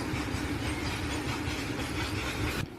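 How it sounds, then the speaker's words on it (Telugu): A train rumbles past close by, a loud continuous roar with rattling wheels that cuts off abruptly near the end. "మా ఇంటి దగ్గర ట్రైన్ వెళ్తుంది చూడండి"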